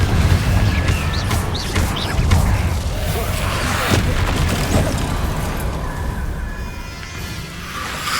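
Repeated Confringo fire spell blasts in the Hogwarts Legacy video game, a dense run of booming, crackling impacts layered over continuous battle noise, loud and steady throughout.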